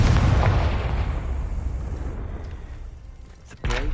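A Confringo blasting spell explodes in Hogwarts Legacy, a loud booming burst that rumbles and fades over several seconds before a sharp new crack near the end, with a voice calling out over the blast.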